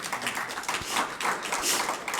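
Audience applause at a public library poetry reading, a short burst of many hands clapping steadily and fairly close, with no talk over it.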